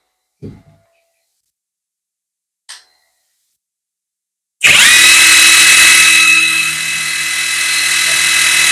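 An IMPEK J-LD JV88 48V (20V) 350 Nm cordless impact wrench runs at speed 2, starting abruptly after a few faint clicks and holding a loud, steady high-pitched motor whine that eases slightly toward the end.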